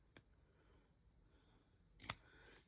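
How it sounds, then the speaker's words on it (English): Industrial size scissors cut paper or fabric in a quiet room: a faint snip near the start, then a sharper, louder snip about two seconds later. "Use the industrial size scissors because, you know, why go small?"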